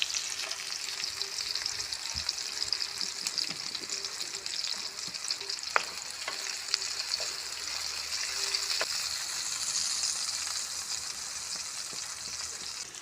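Cumin seeds and cashew pieces frying in hot oil in a pan for a cauliflower masala curry, giving a steady, close hiss and crackle with a few sharp pops and occasional stirring scrapes.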